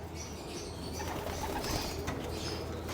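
Pigeons in a loft coo softly at moderate distance, a low murmuring chorus with occasional wing flutters and shuffling, steady and unbroken over a few seconds with no voices.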